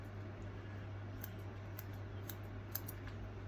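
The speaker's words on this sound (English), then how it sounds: "If you want to cut into the ends to make them less blunt and make them wispier" Scissors snip into the ends of a heat-friendly synthetic wig fringe, giving four or five faint, crisp cuts spaced about half a second apart over a steady low hum, with no talking.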